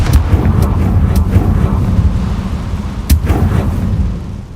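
A Confringo fire spell explodes in Hogwarts Legacy, a dense rumbling blast with a few sharp cracking bursts over a steady low roar, one strong impact near the end before it fades.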